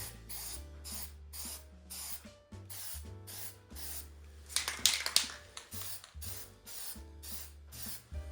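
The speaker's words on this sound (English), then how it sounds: "There's some test spray." Repeated bursts of brake cleaner aerosol spray hiss, several short blasts in a steady rhythm, close and fairly loud, with no talking.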